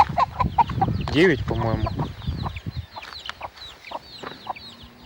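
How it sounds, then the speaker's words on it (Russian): Chickens and chicks in a village yard, with rapid clucks and one louder squawk, close and lively while a person talks over them. "У нас пропадают потихонечку цыплята один за одним."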